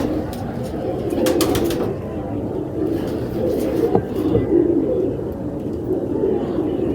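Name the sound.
pigeons cooing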